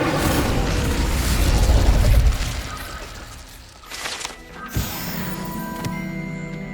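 Incendio fire spell cast in Hogwarts Legacy, a loud roaring whoosh of flame with a booming burst, fading then followed by a sharp pop and crackling magical effects.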